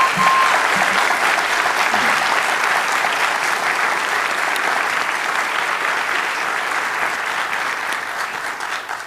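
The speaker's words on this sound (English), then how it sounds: "And one final round of applause for our debaters for the job they did tonight." Sustained applause from a live audience closing a formal debate on the resurrection of Jesus, a dense wash of many hands clapping that begins at full strength and tapers slightly toward the end, with no talk over it.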